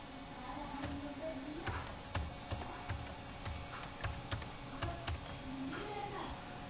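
Quiet, irregular clicks of fingers typing a member's name on a computer keyboard, keystrokes coming in short bursts with a faint voice in the background.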